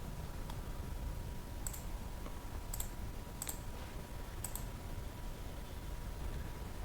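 A computer mouse clicks a few times, faint sharp ticks spaced about a second apart over a low steady room hum.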